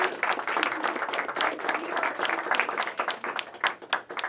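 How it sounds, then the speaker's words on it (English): A business awards crowd gives a round of applause for the outgoing chamber of commerce leader, close, lively clapping with distinct individual claps pulsing through a steady wash. "let's have a round of applause for our outgoing"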